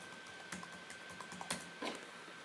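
A computer keyboard is typed on at a desk while an ID and password are entered, giving a few sparse, faint key clicks over a low room hiss.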